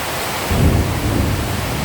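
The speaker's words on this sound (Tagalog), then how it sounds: "Ay, Ambon ng ulan." Steady rain drizzles on a flooded backyard farm plot while deep thunder rumbles underneath, swelling midway and continuing as a dense, constant wash of sound.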